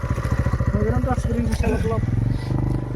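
A motorcycle engine chugs with a steady low throb, punctuated by clattery revs, and a voice speaks over it.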